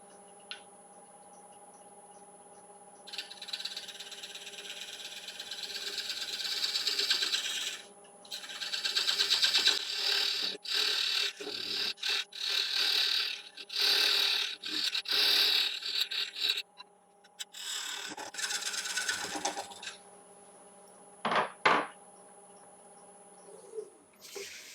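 Wood lathe turning a tenon on a large yew bowl, with intermittent scraping and rasping bursts from the tool on the spinning wood over a steady motor hum, stopping and starting.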